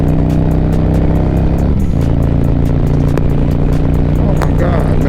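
Harley-Davidson motorcycle with a Khrome Werks 2-into-2 exhaust, a steady loud engine drone close by with a dip around two seconds, plus some background noise.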